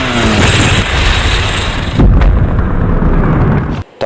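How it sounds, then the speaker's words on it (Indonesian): A torpedo aboard the Russian submarine Kursk explodes in the 2018 film Kursk, a loud, dense, rumbling blast with a sharper boom partway through, then a sudden drop and a last thud. "Torpedo meledak dengan sangat dahsyat"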